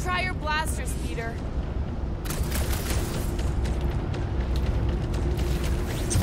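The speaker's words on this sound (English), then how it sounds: "Try your blasters, Peter." Blaster fire in the Guardians of the Galaxy video game, a run of sharp bursts over dense, rumbling game ambience with music and voices mixed in.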